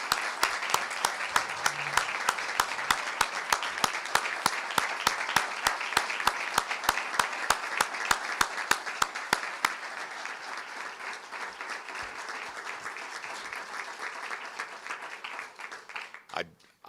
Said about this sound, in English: how about a big round of applause for Mike Holder and everything he's meant for Oklahoma State?